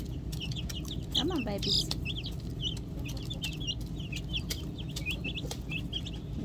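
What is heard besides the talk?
chickens and baby chicks clucking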